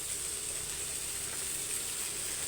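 Onions sauté in a pan with a continuous, even sizzle and hiss that holds steady at close range, with no talking.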